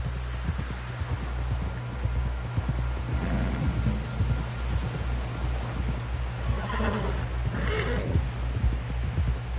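A horse's hooves clip-clop at a steady walking rhythm in the game Red Dead Redemption 2, close and even beneath a low rumbling background, with a neigh rising midway.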